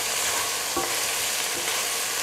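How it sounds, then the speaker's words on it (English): Continuous close sizzling of chicken frying in a hot pan, with a faint scrape of stirring partway through. "A little more frying."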